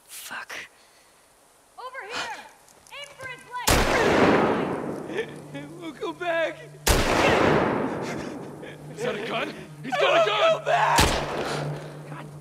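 Gunfire erupts in The Last of Us Part 2 as several sharp, loud shots punctuate the scene, with people talking and shouting between the blasts.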